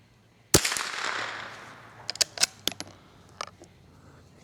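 A .22 rifle loaded with Sellier & Bellot CLUB ammunition fires one sharp, loud crack with a lingering reverberant tail, followed by several fainter, brief clicks and knocks.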